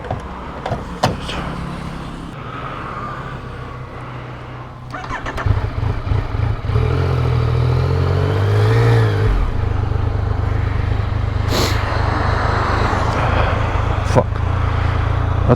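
A motorbike engine on a mountain road starts and revs up into a steady loud drone, with a low rumble that swells and then holds near, plus a few light clicks and knocks before it.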